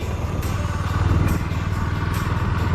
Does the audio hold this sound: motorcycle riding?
yes